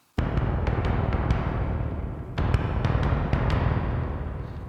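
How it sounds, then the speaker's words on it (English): Roland Alpha Juno synthesizer timpani patch, velocity-sensitive, rumbling as a dense low roll with a few sharp higher accents; one swell, then a louder second entry partway through, sustained and alone. "Alpha Juno Timpani."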